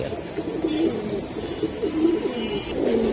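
Pigeons of loft breeds such as silver Giribaz and fantails coo steadily throughout, overlapping rolling calls close by, with only slight background noise.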